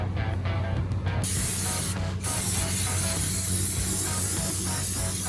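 A steady, close hiss of an aerosol spray running continuously onto a 4.3 S10 Blazer truck engine, over a mechanical background hum.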